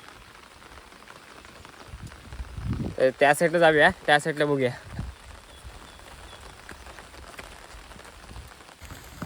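Steady rain falls outdoors by a stream during fishing, a soft continuous hiss that runs throughout, with a person talking briefly in the middle.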